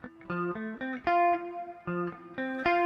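An OBNE Screen Violence reverb pedal blending short, medium and long reverbs on a bright, sustained synth-like melody, notes swelling and trailing into lush washes, played alone with no talking.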